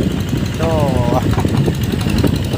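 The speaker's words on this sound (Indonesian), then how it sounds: "Traktor." A tractor engine runs close by with a rough, rumbling, pulsing chug, and a voice is heard briefly over it.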